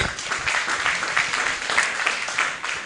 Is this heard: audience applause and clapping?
yes